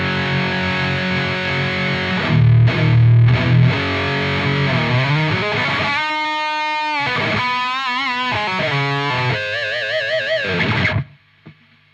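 An electric guitar plays through an ENGL Steve Morse Signature 20 tube amp set for heavy overdrive. Thick distorted chords give way to sustained wavering bends and lead notes, loud and continuous for about eleven seconds, then cut off into near silence.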